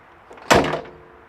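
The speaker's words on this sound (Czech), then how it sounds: "tak třeba zavření dveří je takhle" A single solid thud of a Škoda 100 car door shutting, close and fairly loud, with a short decaying rattle afterward in an otherwise quiet space.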